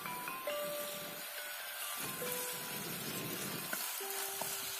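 Cooking oil heating in a pan over an outdoor fire gives a steady, close, fairly quiet sizzle and crackle with no talk, while faint electronic-sounding tones drift in the background.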